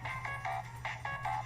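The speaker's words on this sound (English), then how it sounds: "I'm getting a phone call." A telephone rings in a home during a live stream, a short repeating electronic ringtone pulsing in quick bursts over a low steady hum, fairly close and clear with no talking.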